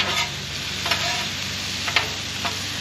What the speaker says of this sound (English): Dueling spatula time